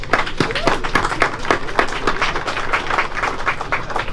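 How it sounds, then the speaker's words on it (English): Audience applause at an outdoor event for Amtrak service returning to Essex Junction, a steady patter of many hands with distinct claps and a little crowd noise, no talk over it. "So let's give them a round of applause."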